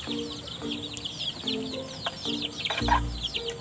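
Month-old chicks cheep and chirp inside a cage, a dense overlapping chorus of high peeps with a low thump near the end.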